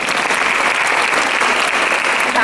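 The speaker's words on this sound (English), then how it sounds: "Please give them a huge round of applause." An audience at a school Founder's Day celebration applauds its teachers, loud, sustained clapping from a large crowd filling the whole stretch without a break.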